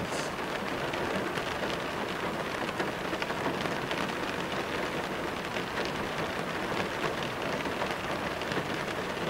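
Steady rain pours down with a dense hiss, drops pattering on surfaces throughout, with no voices.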